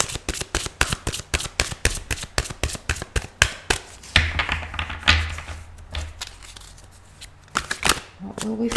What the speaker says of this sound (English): I'm using the Archangel Power Tarot cards by Doreen Virtue.